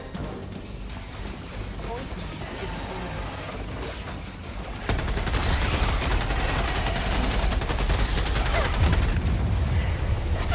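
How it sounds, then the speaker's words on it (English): A machine gun fires nonstop in the shooter game Helldivers 2, a loud, dense rattle of rapid shots that picks up and grows heavier halfway through, set against the game's busy mechanical background. "is this fucking machine gun that weak?"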